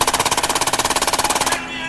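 Machine gun fire in a rapid sustained burst of about twenty evenly spaced loud shots, close and harsh, cutting off abruptly into a faint ambient tail.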